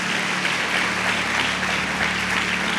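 Church congregation at a Sunday service applauding steadily, a dense, even wash of clapping hands that holds at the same level throughout.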